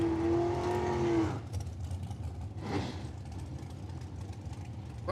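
Dragster engine running at the Cordova Dragway drag strip during a Quarter-Max points race, a steady loud drone with a brief high whine at the start and a rise in level near the middle.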